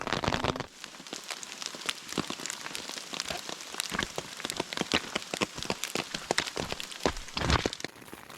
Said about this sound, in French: après la pluie pendant la fin de la randonnée, pluie sous la tente